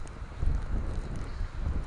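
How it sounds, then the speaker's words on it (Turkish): Strong wind roars and buffets the microphone with steady low rumbling gusts during snowfall, loud and continuous, with no voices. "rüzgar çok fazla olduğu için kar fazla birikmiyor"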